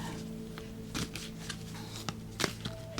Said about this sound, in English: Now usually the way I do this is I just shuffle like so until one card reveals itself.